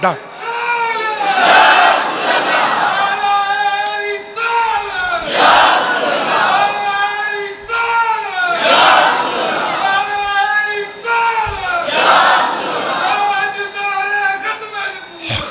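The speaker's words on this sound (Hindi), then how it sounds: "कड़ा नारा मार दो" A large crowd at a religious sermon shouts a slogan in unison several times, loud roaring waves of massed voices rising and falling in a repeating rhythm with brief gaps between each call.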